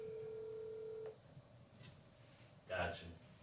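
A telephone tone sounds for about a second to place a call to a guest, followed by quiet line noise and a brief burst of voice.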